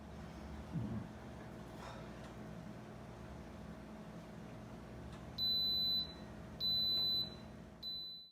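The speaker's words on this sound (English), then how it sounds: "I only have 1 minute left before the timer goes off." Three high-pitched electronic beeps from an electric pressure cooker timer ring out near the end, two longer and one cut short, over a quiet background hum.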